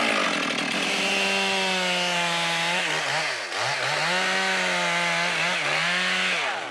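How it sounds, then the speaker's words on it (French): A chainsaw bites into a partly hollow tree trunk in the French Guiana forest, its engine loud and close, revving steadily and then dipping in pitch twice as the blade loads and lurches through the wood. "La tronçonneuse a avancé d'un coup d'un seul"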